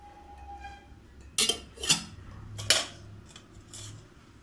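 Sugar spooned into mashed mango for juice, several distinct clinks and scrapes of a spoon against a bowl, close and fairly loud, spaced a second or so apart over a quiet background.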